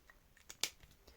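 A couple of quick, faint snips of scissors cutting paper in a quiet room, the second one sharper and a bit louder.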